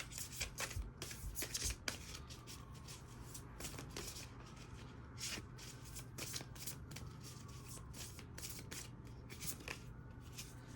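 Tarot cards riffle and slap as a deck is shuffled by hand, quick crisp bursts repeating in an uneven rhythm, close and fairly quiet, with no talking.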